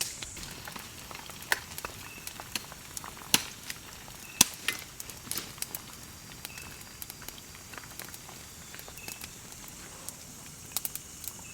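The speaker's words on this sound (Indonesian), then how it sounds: "sambil nunggu jengkolnya matang, lagi proses penggorengan" Jengkol (dog fruit) fries in a pan at a campsite in a bamboo grove. It gives a steady close sizzle broken by scattered sharp pops and crackles.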